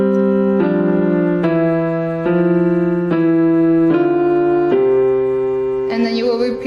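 Piano playing a complete song with both hands, sustained chords struck in a steady rhythm of about one every 0.8 seconds, full and close with a brighter run of notes at the end, no talking.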